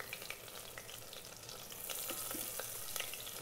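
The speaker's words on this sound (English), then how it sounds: "Now we can add curry leaves, green chilli, ginger, and let us fry this for 1 minute." Curry leaves, green chilli and ginger frying in hot oil in an Instant Pot, a steady soft sizzle with brief crackling pops, growing slightly louder midway, with no talking.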